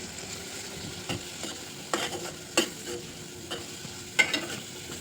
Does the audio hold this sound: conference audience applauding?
no